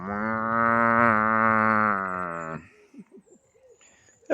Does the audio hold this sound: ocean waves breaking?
no